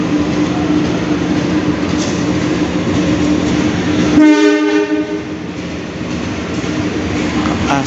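A KA Serayu passenger train hauled by a CC203 diesel locomotive rumbles loudly and steadily through a station, with a strong, multi-tone horn blast sounding partway through over the continuous rail noise.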